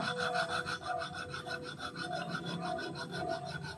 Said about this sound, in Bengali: চলো মা চন্দনটা বেটে নিই